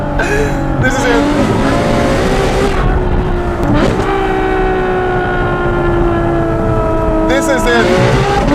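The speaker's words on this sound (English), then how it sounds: "The F12berlinetta. This sound is intoxicating." A Ferrari F12berlinetta V12 screams through revs on a mountain pass, loud rising and falling engine howl with quick gear changes and sharp shifts throughout.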